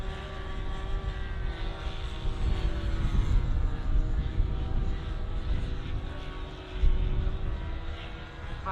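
Model airplane flying at the Popham model airshow, a steady droning propeller engine whine that holds loud and near throughout, with a brief surge near the end.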